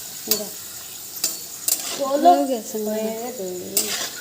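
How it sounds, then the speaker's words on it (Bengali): Papad frying in hot oil on a gas stove gives bursts of sizzling and stirring clatter, while voices talk close by over the cooking. "তাড়াতাড়ি পাপড় ভাজা হয়ে যাচ্ছে"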